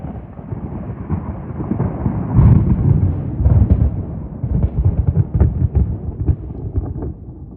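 Thunder rolls and rumbles after lightning at a campsite in Hills Creek State Park, a loud, low, rolling roar with several swelling bursts over about seven seconds, with no talking.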